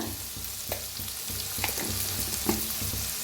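Vegetables roasting with turmeric in a pan give off a continuous close frying crackle, broken by regular scraping and tapping strokes as a spoon stirs them; no talking.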